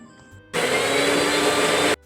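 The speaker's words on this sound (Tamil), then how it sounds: "நைட்டு கொஞ்சமாக மிக்ஸி ஜாரில் மருதாணி, ஒரு 4 கிராம்பு, கொஞ்சமாக ஜீனி சேர்த்துட்டு நல்லா நைஸாக அரைச்சி எடுத்துட்டேன்" A mixer grinder jar whirs loudly in one steady burst of about a second and a half, grinding henna leaves with cloves and a little sugar, starting and stopping abruptly.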